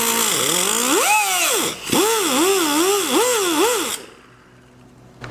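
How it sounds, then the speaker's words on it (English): A cutting wheel biting into a stuck intake bolt makes a loud, steady whine that rises and falls in pitch as the load changes, pauses briefly, then cuts off near the end. "Cutting wheel and cut into that just a little bit more."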